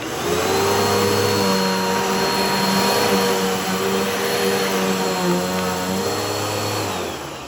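Simplicity S20EZM upright vacuum cleaner running steadily over carpet, a loud continuous motor whine with a low hum that holds for the whole stretch and eases off slightly near the end.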